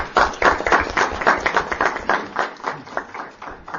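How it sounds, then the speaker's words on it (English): An audience at a board of education meeting breaks into applause, dense steady clapping from many people close by that gradually thins and fades over a few seconds. "We applaud."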